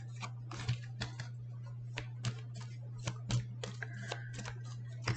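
Oracle cards are shuffled in small piles, giving soft, quick papery riffles and taps in an irregular rhythm, close and quiet over a steady low electrical hum.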